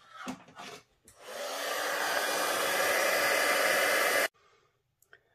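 A heat gun blows a steady, loud whooshing roar for about three seconds while melting embossing powder on a card, starting with a few handling clicks and then cutting off abruptly to near silence.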